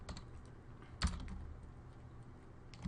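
Typing on a computer keyboard to enter a comment, a steady run of soft close key clicks with one sharper knock partway through and a few final taps, no voices.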